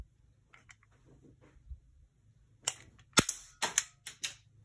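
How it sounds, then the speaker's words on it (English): A vintage 1972 Falcon Luger toy pistol with a metal trigger fires a rapid series of about six sharp, loud cap-gun cracks, each with a short decay, after a few faint clicks of handling. "I'm gonna shoot at the window here."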